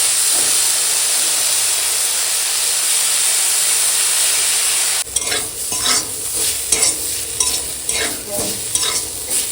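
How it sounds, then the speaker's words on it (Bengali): Drumstick flowers fry and get stirred in a pan, starting as a steady, loud sizzling hiss and then turning to scraping, clattering stirring strokes over the continuing sizzle, with no talk. "এখন ফুলটা ভাজা হয়ে গেছে"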